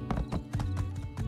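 Horse hooves clip-clop at a steady trotting pace in the life-sim game My Time at Sandrock, several close, loud hoofbeats over about a second with no talk.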